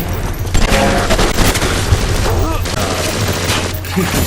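Enemies fire on the player in the shooter BioShock, a dense wash of gunfire and booms under continuous game noise and muffled chatter, loud and unbroken throughout.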